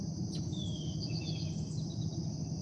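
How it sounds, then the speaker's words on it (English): High, thin bird calls and chirps sound faintly outdoors over a low steady hum, with a brief sharp tweet near the start and no talking. "You hear them birds? That's my therapy."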